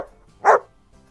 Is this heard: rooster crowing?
no